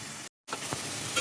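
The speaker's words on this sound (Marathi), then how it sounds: "तर कांदा थोडा परतून घेऊया आधी" Onion sautéing in a pan, a steady soft sizzle with a brief gap and faint stirring clicks, close and fairly quiet, no talking.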